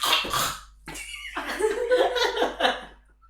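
A person coughs in rough, harsh bursts during a tabletop dice game, then mixed voices and chuckling follow in a lively group setting.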